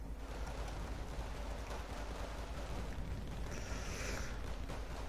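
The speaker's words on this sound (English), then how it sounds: "they're being mortared as well" Distant mortar fire in Wargame: Red Dragon, French mortar shells landing as a continuous rumbling, crackling barrage with dense low-frequency noise and no talk over it.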